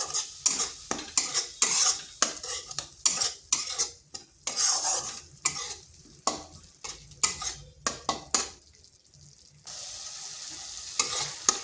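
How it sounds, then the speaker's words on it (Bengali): Turmeric, cumin and Kashmiri chilli powders sautéed in oil in a kadai for a bitter gourd dish, heard as brisk repeated scraping strokes of a spatula against the pan over a low sizzle, close up, ending with a steadier fry. "হলুদ গুঁড়ো, আর দিচ্ছি জিরে গুঁড়ো। এগুলো ভালোভাবে একটু কষে নিচ্ছি।"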